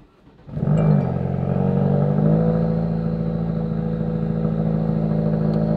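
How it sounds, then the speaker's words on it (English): A 2017 Ford Focus RS fitted with an MBRP downpipe and exhaust fires up from cold after sitting about 18 hours, a sudden loud catch settling into a steady, throaty high idle that holds close and alone. "Let's get one more cold start for you guys."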